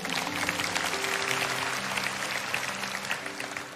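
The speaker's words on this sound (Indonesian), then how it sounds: "Yang percaya kasih tepuk tangan untuk Tuhan." A church congregation claps during a sermon by Pastor Philip Mantofa, a sustained, even roar of many hands with soft, steady musical tones held underneath throughout.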